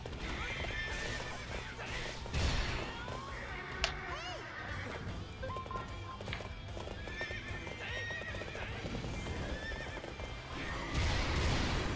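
In the Hyrule Warriors video game, a horse gallops with steady, rapid hoofbeats through a dense mix of game effects, and a brief whinny rises above the clatter of battle.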